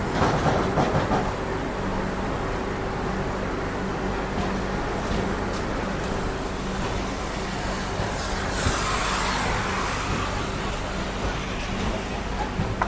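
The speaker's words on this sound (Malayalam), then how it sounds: "നമ്മൾ ഇതിലേക്ക് ആരാം പരപ്പനങ്ങാടിയിൽ നിന്ന് വണ്ടി എടുത്തിരിക്കുകയാണ്" The Kannur–Yeshwantpur Express pulls out of Parappanangadi station, heard from on board as a loud, steady rumble with rhythmic clickety-clack of wheels and occasional metallic squeals throughout.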